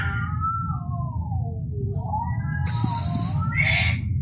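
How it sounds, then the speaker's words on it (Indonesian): Cat meowing in the Indonesian folklore horror game Pamali: drawn-out wavering cries, then a sharp hissy burst and a shorter higher yowl near the end, fairly close over a low background rumble. "Dan sekarang suara kucing."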